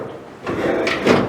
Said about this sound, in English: So I should actually be able to open the door now.